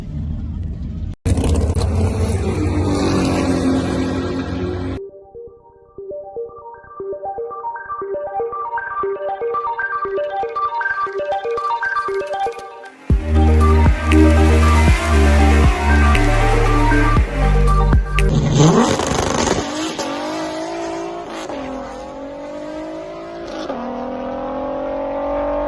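A Volkswagen Rabbit drag car in the 1150 class launches down an import drag strip, its engine revving hard and climbing through the gears with a loud, close, rasping roar, then pulling away and fading before another surge of engine noise.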